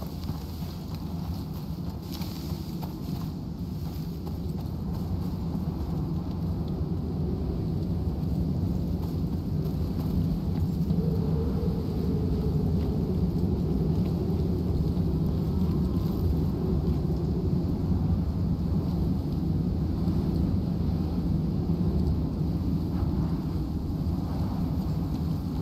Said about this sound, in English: Thunderstorm, you might want to get in somewhere if you can.